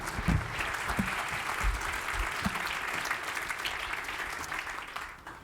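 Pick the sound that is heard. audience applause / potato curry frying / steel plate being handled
audience applause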